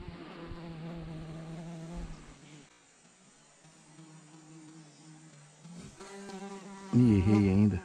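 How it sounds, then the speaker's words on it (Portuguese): Bees buzzing around a fisherman on a riverbank, a steady close droning hum that rises and falls as the insects circle, louder near the end, with faint background noise. "Nossa, essas abelhas são chatas, velho."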